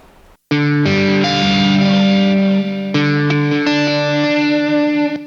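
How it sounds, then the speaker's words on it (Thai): Electric guitar played through the TH-U Overloud mobile amp app with reverb switched on, sounding loud and sustained with distortion, ringing chords and notes washing into a long reverberant tail after a brief silent start. "ดีเลย์ รีเวิร์บมีนะฮะผมใส่รีเวิร์บไป"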